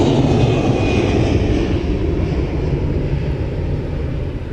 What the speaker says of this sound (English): Climbing out of a runway 30 left is Delta 2932 headed to Raleigh-Durham in A321